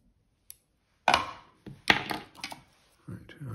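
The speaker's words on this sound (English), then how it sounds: "And trim up the thread." Fly-tying thread being trimmed at the vise, heard as a few sharp, close snipping clicks spaced irregularly against near silence.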